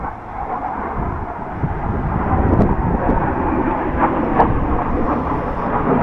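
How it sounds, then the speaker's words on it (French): Two Greek F-16 fighter jets pass overhead above the Aegean coast on Euboea, a steady, broad roar rising slightly and holding loud for several seconds, mixed with outdoor wind. "Des F-16 grecs"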